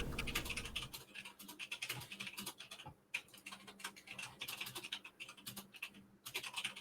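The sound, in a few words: computer keyboard typing clicks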